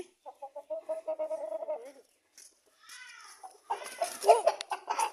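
A very large broiler chicken, around twenty kilograms, gives a run of steady clucks and vocal calls, followed by a pause and then louder, busier fowl noise close by.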